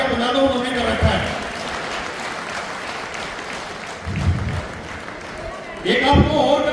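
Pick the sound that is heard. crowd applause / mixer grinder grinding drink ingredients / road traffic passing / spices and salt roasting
crowd applause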